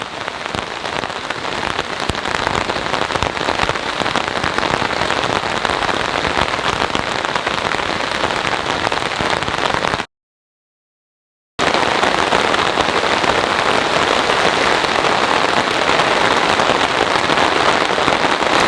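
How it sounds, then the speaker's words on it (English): Heavy rain pours down in a forest during a thunderstorm, a dense, continuous hiss, loud and close, broken by a brief gap of total silence partway through. "Heavy, heavy rain is falling right now."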